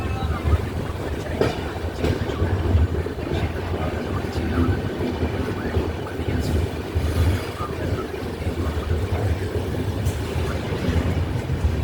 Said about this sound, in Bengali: একদম নির্ধারিত সময়ে বর্ধমান জংশন রেলওয়ে স্টেশনের 2 নম্বর প্ল্যাটফর্ম থেকে আমাদের ট্রেন ছেড়ে দিল।